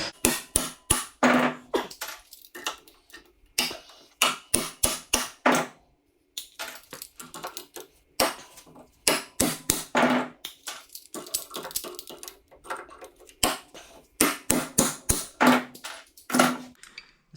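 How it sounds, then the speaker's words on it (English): A hammer delivers sharp metallic whacks to the rivet of a pair of locking pliers. The blows come up close in quick bursts of several strikes, separated by short silent pauses. "Couple little whacks on that that rivet"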